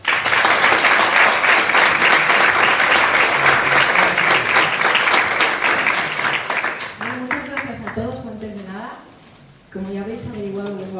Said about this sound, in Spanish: un fuerte aplauso para Laura